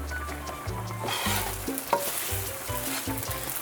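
Roti (paratha, buss up shut) made with milk cooking in a pan, a steady close sizzle of frying with soft stirring and scraping noises layered on top, no voices.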